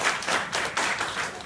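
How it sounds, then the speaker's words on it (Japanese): A short burst of applause from a small group, quick scattered claps blending into a soft patter. "拍手ね"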